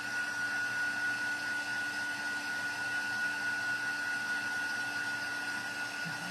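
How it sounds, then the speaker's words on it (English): A hair dryer blows steadily on black paint coating a shell, giving a loud, close, unbroken whooshing hum with a faint high whine and no pauses. "So I'm going to dry the rest of the black off as well as I'm doing it."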